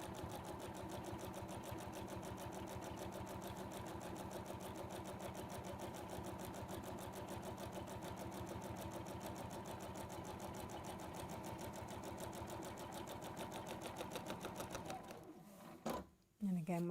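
A sewing machine stitches in a fast, even mechanical rhythm, the needle clattering up and down continuously before stopping near the end. A voice talks quietly over it.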